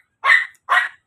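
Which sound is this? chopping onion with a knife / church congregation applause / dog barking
dog barking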